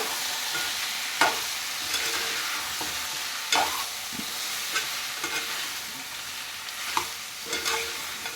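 Chicken fries in ginger garlic paste with a steady close-up sizzle while a spoon stirs it. Periodic scrapes and taps against the pan come through every second or so, with no talking.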